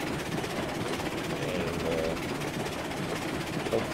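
A train runs on rails in the video game RailRoads Online, giving a steady, even rumble with faint clicking throughout.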